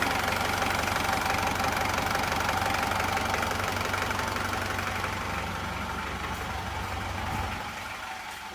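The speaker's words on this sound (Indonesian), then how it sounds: "Suara mesin." A steady, close engine at idle after a rebuild for severe blow-by and a worn cylinder block, with a rough, slightly knocking rumble that holds evenly, then softens and shifts near the end.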